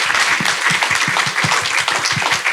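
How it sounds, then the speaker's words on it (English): Brisk audience applause at a brain injury congress panel discussion, many hands clapping in a dense, lively burst with distinct individual claps standing out up close. "Round of applause, please."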